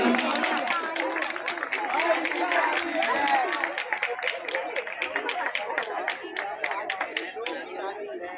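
An audience at a university event welcoming a cabinet minister bursts into sustained applause, dense clapping from a large crowd mixed with chatter, continuing throughout and thinning slightly toward the end.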